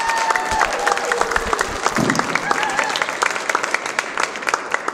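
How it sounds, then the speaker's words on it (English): An audience at a rising-stars showcase event claps steadily with some cheering mixed in, a dense continuous wash of applause. "Another round of applause for Dusty Deen."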